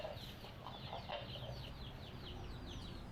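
Native chicken chicks just let out of their coop, peeping and clucking continuously close by over a low, steady background hum, with no talking.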